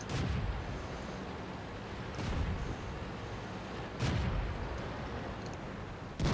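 A KV-1S tank's cannon fires repeatedly in World of Tanks, with loud booming blasts about every two seconds over a constant rumbling battle noise, and one shot punches through an enemy turret's front.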